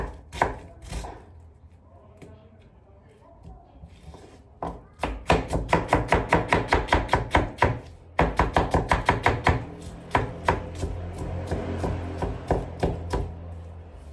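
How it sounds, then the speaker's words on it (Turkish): A knife chops an onion rapidly on a cutting board in steady bursts of sharp, even strokes, pausing briefly between runs; close and fairly loud, with no talking. "Soğan çok mu ya? Bir tanesini daha doğrayayım."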